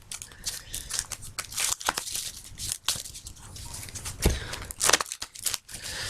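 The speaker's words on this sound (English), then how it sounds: "As you hear the card shuffling," Crisp riffling and snapping of Magic: The Gathering cards being shuffled up close, in quick irregular bursts with a few sharp clicks.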